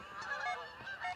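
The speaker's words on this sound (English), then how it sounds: "Got some geese overhead" A passing flock of geese honks overhead outdoors, several clear overlapping calls close by in a short burst, with no talk.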